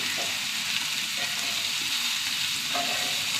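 Thick fish pieces shallow-frying in a pan, a constant close hiss of sizzling oil with occasional light utensil scrapes and spatters, even in level and without speech.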